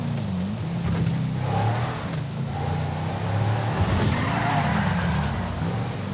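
A Hyundai Verna 2022 drives in GTA 5: a low, steady engine drone rises and falls as it revs, and tires scrub and skid under it. No one speaks.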